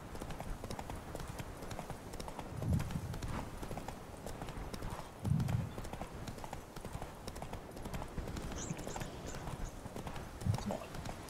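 Roach the horse gallops through Witcher 3, hooves drumming in a steady close clip-clop rhythm across the whole stretch, with a few heavier thuds standing out over a busy ambient game background.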